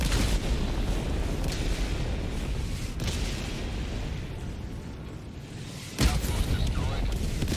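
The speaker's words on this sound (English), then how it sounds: "I've just put down a big orbital barrage there" Orbital barrage explosions in the video game Helldivers 2, a loud continuous rumble of heavy blasts with a fresh sharp boom near the end, and a player talking over the bombardment.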